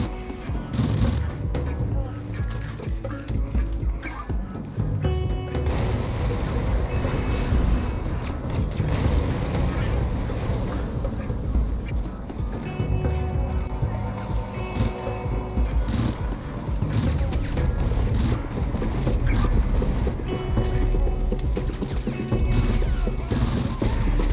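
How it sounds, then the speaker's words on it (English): Explosions, crashes and gunfire fill a Crysis Warhead level on PC, with repeated loud booms and bursts of firing continuing throughout. "Let's do a big explosion, see what happens."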